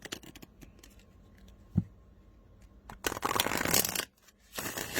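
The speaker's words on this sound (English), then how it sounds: "I shuffled a little bit like I am right now" A Talisman Oracle card deck with black gilded edges being shuffled by hand, close up, with scattered light riffles and clicks building into a dense, loud flurry of shuffling toward the end.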